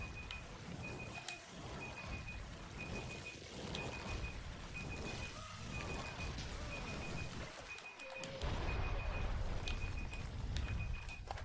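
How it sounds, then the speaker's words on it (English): Steady, evenly spaced electronic beeps repeat without pause in the video game Monster Hunter World, a thin high tone pulsing over a dense, noisy bed of game ambience. "It's been 2 minutes of beeping."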